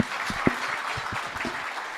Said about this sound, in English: A round of applause for Mr. Piri, ladies and gentlemen.